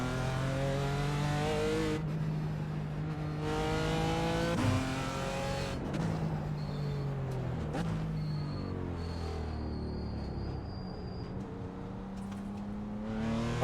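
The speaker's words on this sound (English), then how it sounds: "There's a car approaching." Engine note of a race car in the sim racing game iRacing at Laguna Seca, BMW M4 GT4 racing, revving and shifting through gears with rising and falling pitch, loud and close, with another car's engine approaching.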